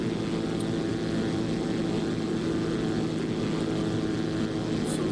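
A Zlin 142 propeller plane's engine in the X-Plane 11 flight simulator drones steadily and loudly throughout, a continuous close hum with a low throbbing layer and no voices.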